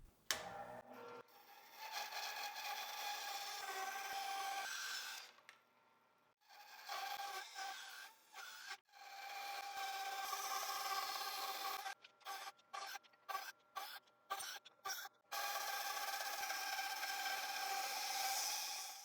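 Power saw cutting through pieces of old reclaimed wood in a workshop, a steady loud whine broken by short gaps and then a run of rapid stop-start bursts before cutting resumes.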